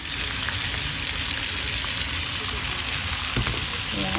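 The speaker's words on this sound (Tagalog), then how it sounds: "Gigisan lang natin ito mga kahit mga 3 minutes." Pork menudo with bay leaf sautéing in a pan, a steady loud sizzle and crackle of frying throughout with a brief stirring clatter near the end.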